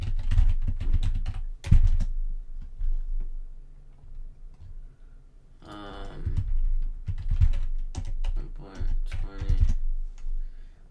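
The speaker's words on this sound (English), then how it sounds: "I suck at typing." Computer keyboard typing in quick bursts of clicks, some loud and close, pausing in the middle, with a voice briefly heard partway through.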